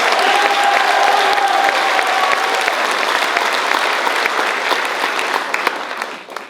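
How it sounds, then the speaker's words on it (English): A crowd applauds at the Washington County Fair queen contest, dense close clapping that holds steady and then tapers off near the end, with no talk over it. "give her one more round of applause"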